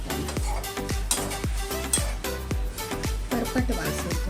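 Jowar chivda is heated and stirred in a thick-bottomed pot, giving a steady rhythm of scraping, rustling strokes about twice a second, close by and clearly heard, with a light sizzle underneath.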